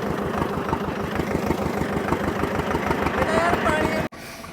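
A T-25 tractor engine idles nearby with a steady, rhythmic low chugging, then cuts abruptly near the end.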